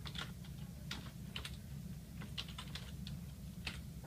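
Close, quiet, irregular key taps as a date is typed on a computer keyboard over a low background hum.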